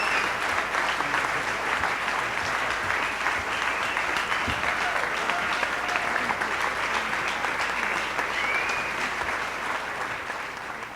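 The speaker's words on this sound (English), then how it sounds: "let's have one more round of applause for them" Sustained audience applause at a GMO moratorium initiative launch event in Maui County, steady and dense throughout as speakers leave the stage, fading slightly near the end.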